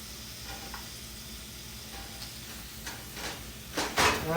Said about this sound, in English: now I'm going to saute the onions and peppers in the Normandy blend